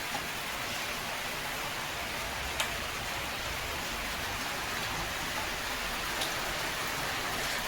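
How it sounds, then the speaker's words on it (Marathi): Heavy rain pours in a continuous hiss, steady and enveloping, with a couple of faint isolated knocks. "खूप पाऊस येतोय नुसता पाऊस येतोय"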